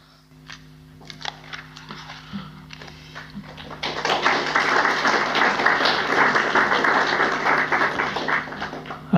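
A seated audience breaks into applause after a spiritual talk, beginning with a few scattered claps and swelling into dense, steady clapping that fills the room and continues to the end.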